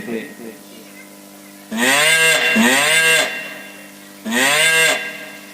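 Cows moo loudly and nearby, giving three long, drawn-out lowing calls separated by short pauses.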